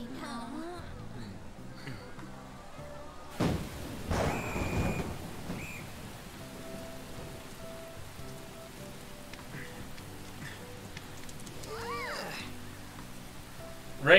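Cat meows sound several times in Persona 5 Royal over a bed of steady rain, with a rumble of thunder and faint background music.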